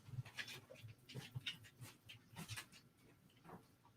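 Hungry dogs pant close by in quick, uneven bursts of breath, with a few soft whimpers mixed in and no talking.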